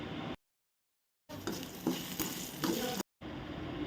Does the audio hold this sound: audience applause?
no